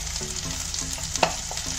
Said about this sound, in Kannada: ಇದನ್ನು ಚೆನ್ನಾಗಿ ಫ್ರೈ ಮಾಡ್ಕೊಬೇಕು